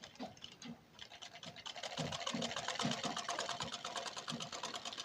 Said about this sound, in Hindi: हम इसको ऐसे रख कर ऐसे सिलाई लगा लेंगे